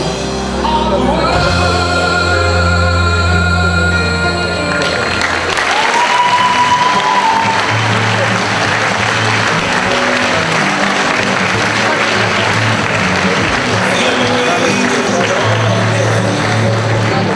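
A loud ovation from a crowd at a women's model fitness competition in Ukraine, with sustained clapping, whoops and shouts over venue music that holds steady throughout.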